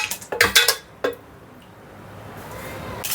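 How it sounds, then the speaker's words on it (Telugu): Ice cubes for a chilled summer gondh katira drink clink into a glass in several quick, bright knocks near the start, then a quiet pause and room hiss with one faint clink at the end. "సో ఐస్ క్యూబ్స్ వేసుకుందాం."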